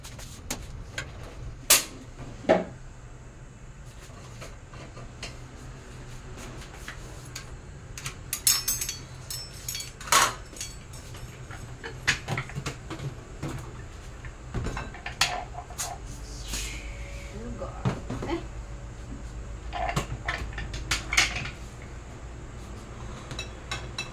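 A frying pan (kawali) is handled and set on a stove while sardines are prepared, giving scattered metallic clanks and ticks of varying loudness over a low kitchen hum, with no voices.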